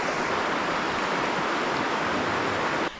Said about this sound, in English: Someday I'm gonna have a house with a bedroom next to the sound of rushing water